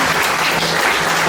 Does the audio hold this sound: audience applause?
yes